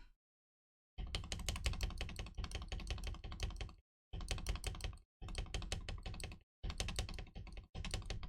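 Typing on a cheap keyboard with unmodded stabilizers: bursts of rapid, clacky keystrokes in several runs separated by short pauses, close and crisp with no talking.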